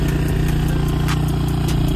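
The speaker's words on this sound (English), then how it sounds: "You know, it's idling good." A Honda TRX450R ATV engine idles close by, a steady rapid thumping pulse with a faint mechanical clatter, loud and unbroken.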